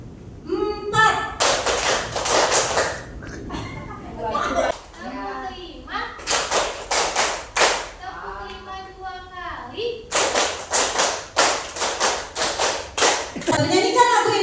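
A class of children and teachers claps in counted rhythmic patterns, crisp bursts of hand claps in groups that grow longer, with a voice calling the counts between them in a school room.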